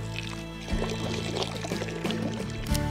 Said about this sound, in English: A quick water break at the village fountain.